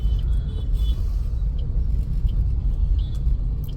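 A car driving along a road toward Pawna Dam near Lonavala on a busy Sunday, with a loud, steady low rumble of engine and road noise heard from inside the car.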